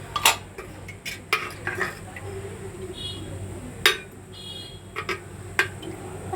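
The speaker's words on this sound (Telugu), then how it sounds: "స్టవ్ ఆన్ చేసేసుకొని ఇప్పుడు మనం కడాయి అనేది పెట్టుకోవాలి." A metal kadai is set on a gas stove to heat oil for frying brinjal bajji: a handful of sharp metallic clanks and clicks spaced apart over a low steady hum.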